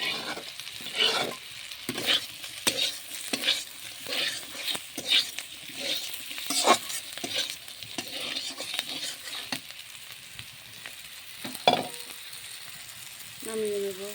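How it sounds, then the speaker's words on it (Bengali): Pointed gourd frying with browned onion and garlic in a pan, a steady sizzle broken by repeated scraping stirs of a utensil, close and continuous. "এখন আগে থেকে ভেজে রাখা পটলটা দিয়ে দেবো, দিয়ে একটু নাড়াচাড়া করে"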